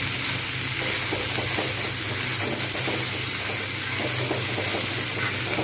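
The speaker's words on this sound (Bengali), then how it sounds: "আমি কিন্তু এখানে কোনো জল ব্যবহার করছি না, আঁচ কিন্তু মিডিয়াম হাইতে রয়েছে। ভালো করে ভেজে নিচ্ছি।" Cauliflower and spice masala fry without water over medium-high heat in a pan, giving a steady, close sizzle with light stirring scrapes throughout.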